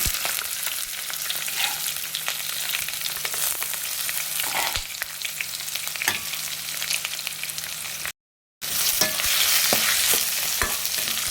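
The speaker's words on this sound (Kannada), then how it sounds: "ಈರುಳ್ಳಿ ಸ್ವಲ್ಪ ಫ್ರೈ ಮಾಡ್ಕೊಳ್ಳಿ ನೀವು" Onion and green chili fry in a pan for an egg rice dish, giving a steady, close sizzle with stirring scrapes throughout and a brief drop-out near the end before the frying resumes loudly.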